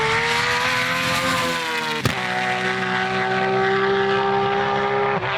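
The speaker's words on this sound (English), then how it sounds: "they created this very exotic, beautiful sounding engine." Nissan RB26 engine in a GT-R running steadily with a smooth, exotic droning tone, close and loud, with a brief blip partway through and no talking.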